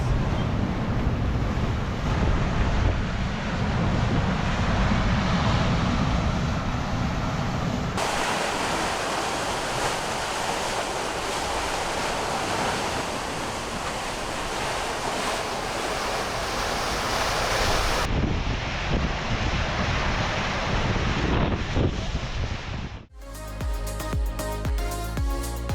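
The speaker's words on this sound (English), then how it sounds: "The wind is getting a little bit exciting here." Strong wind and crashing waves roar steadily around a sailboat making 8 knots in a quick storm off Turkey, a dense, loud wash of noise with a sudden change near the end.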